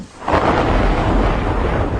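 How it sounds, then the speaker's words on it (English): Rumbling thunder from a large, severe thunderstorm rolls in loud and sustained after a quiet start, a deep continuous roar with a hiss like rain, and no voices. "large, severe thunderstorms can be 10 or even 100 times more energetic"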